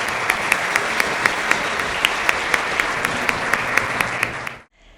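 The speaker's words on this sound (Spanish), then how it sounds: "Le damos un aplauso al Señor por su amor." A Spanish-speaking church congregation gives sustained applause at the close of a worship service. Dense clapping holds steady with a regular rhythmic clap beat on top, then stops abruptly just before the end.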